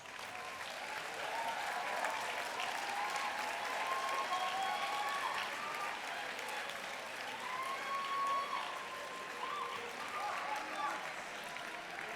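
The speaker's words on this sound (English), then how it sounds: "Graduates, please stand and give your parents and guardians a warm round of applause." Graduates applaud their parents and guardians at a senior high school graduation ceremony in a large hall, a sustained roomy round of clapping with faint crowd murmur beneath it.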